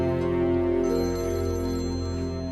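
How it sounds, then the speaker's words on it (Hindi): A telephone rings with an incoming call in a drama scene, a steady electronic ringtone of sustained tones playing continuously and fairly close, with no talk over it. "फोन आ रहा है मामा।"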